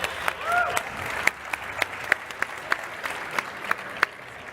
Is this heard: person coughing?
no